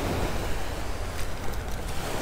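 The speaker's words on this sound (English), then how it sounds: "The waves are really picking up." Ocean waves washing onto a beach during a metal-detecting beach cleanup, heard as a steady, loud broadband roar of surf mixed with wind buffeting the microphone, with no talking.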